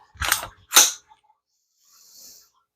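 A Geissele SSA-E two-stage rifle trigger is pulled and reset, giving two crisp, close mechanical clicks in quick succession, followed by a faint soft hiss.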